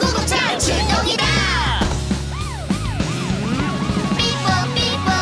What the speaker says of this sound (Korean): 삐뽀 삐뽀 구급차 출동이다